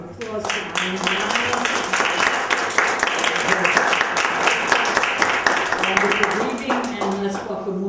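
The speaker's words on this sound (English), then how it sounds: "let's give another round of applause to Eileen." A poetry reading audience in Paterson breaks into dense, sustained applause for a poet, a steady wash of many hands clapping at close range that holds strong throughout and eases slightly at the very end.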